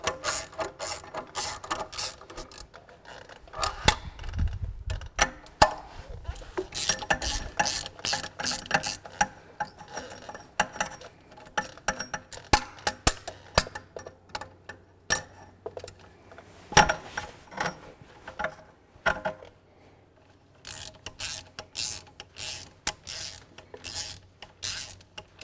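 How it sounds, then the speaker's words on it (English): Ratchet wrench with a 9/16 socket on a long extension loosening gearbox bolts on a Ferguson TE20 tractor, rapid bursts of close metallic clicking in uneven runs with short pauses between strokes. "let's go in there with a 9/16 socket and a big extension. And we'll just loosen those bolts off"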